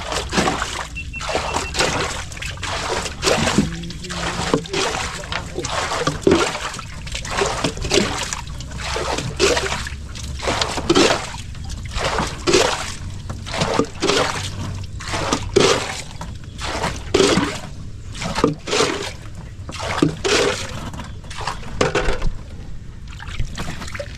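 Water is scooped and sloshed over and over in a steady rhythm, splashing close by, as water is bailed out of a small boat by hand.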